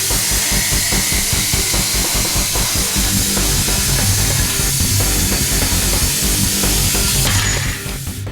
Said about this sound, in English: The Hypertherm plasma cutter cuts like a hot knife through butter